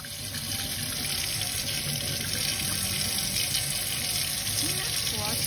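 Kitchen tap water runs steadily into a sink while skinned frog legs are washed, a close, constant rushing stream with faint handling sounds.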